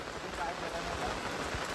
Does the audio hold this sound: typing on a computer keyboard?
no